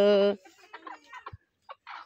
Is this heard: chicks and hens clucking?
yes